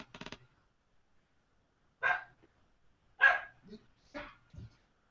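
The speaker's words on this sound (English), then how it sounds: "That dog really just, I guess he was pissed about not getting the award." A dog barks in a few separate sharp bursts, spaced about a second apart, fairly close and loud against a quiet background, with a brief sound at the start.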